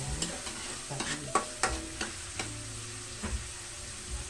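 Vegetables being sautéed with fish sauce in a pan, a steady quiet sizzle broken by a dozen or so sharp scrapes and clinks of a spoon stirring against the metal, with no voices.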